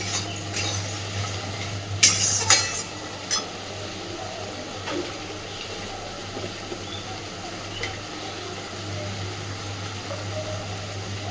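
Spice masala frying in oil while being stirred for a pointed gourd and fenugreek dish, a faint steady sizzle with a few scraping clatters of the spoon against the pan near the start and occasional soft knocks after.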